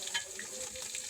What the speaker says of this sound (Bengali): এই যে জিরা বাগার দিচ্ছি, আমাদের ময় মশলা সব দিচ্ছি